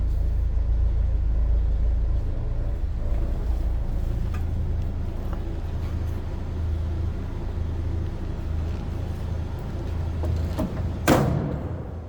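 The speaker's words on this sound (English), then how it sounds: "Actually, nice quiet running truck." A 1966 Ford F100 pickup idles in neutral with a steady, low engine rumble throughout, and a brief sharper knock, like a door or latch, lands near the end.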